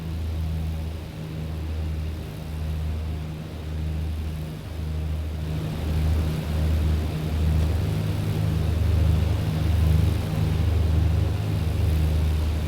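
A BN-2 Islander's piston engines drone in Microsoft Flight Simulator 2020, giving a steady, close, low rumble with a pulsing beat that holds through the whole stretch.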